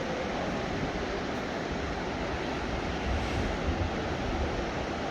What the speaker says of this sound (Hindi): यहाँ पे अलकनंदा नदी बह रही है